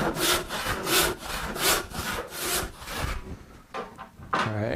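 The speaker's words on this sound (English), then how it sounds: "sawing out a nice long scarf joint like this" Steady back-and-forth strokes of a hand saw cutting a long scarf joint in wood, rhythmic and close, then a few slower, scattered strokes near the end.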